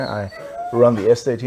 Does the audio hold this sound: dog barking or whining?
yes